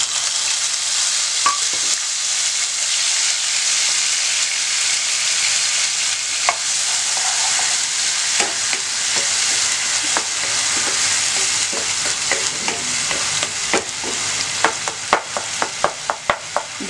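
Ground masala for chicken kofta gravy sautés in a pan with a steady, loud sizzle throughout, broken by occasional stirring clicks that grow more frequent toward the end.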